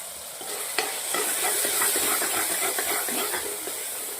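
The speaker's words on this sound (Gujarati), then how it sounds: "ટામેટાને થોડી વાર તેલના અંદર શેકાવા દેશું" Tomatoes fry in hot oil with turmeric in a pan for a Marwari-style desi cowpea curry. A steady, close sizzle continues throughout, with light scraping and stirring on top and no talking.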